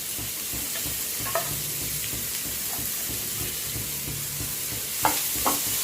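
Chicken pieces for a homemade Mexican-style chicken shawarma fry lightly in a pan, giving a steady soft sizzle with occasional stirring scrapes and a couple of sharper clicks near the end, with no talk.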